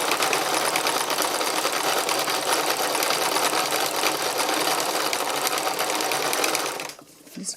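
Sewing machine stitching copper coloured thread into a fabric art panel, a loud, fast, continuous mechanical whirr and needle rattle for several seconds before it stops abruptly, close up with no voices.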